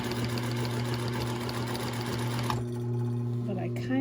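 A sewing machine hums steadily at close range while stitching a big multicolored basket with handles, a continuous droning motor with a slight pitch change partway through, and a voice talks over it.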